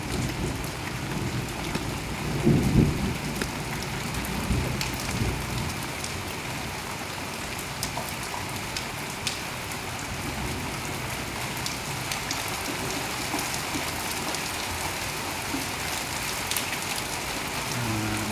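Heavy rain pours steadily in Hauj Gandhar village, Fazilka, Punjab, a dense, continuous wash of drops with a brief louder rumble early on, and no voices.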